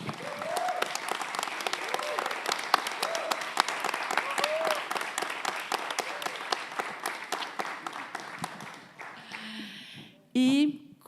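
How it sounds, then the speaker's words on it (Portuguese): Audience applause for Alberto Viana at a Funarte panel during the Tiradentes Photography Festival, a steady dense clapping that fills the room for about nine seconds, then fades, with a brief voice and noise near the end. "eu queria uma salva de palmas para o Alberto Viana"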